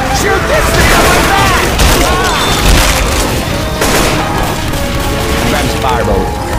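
Pipe bomb blast in Left 4 Dead 2 modded survival on a favela map: heavy booms in a dense, chaotic mix of gunfire, crashes and zombie mayhem lasting throughout, with voices talking over the din.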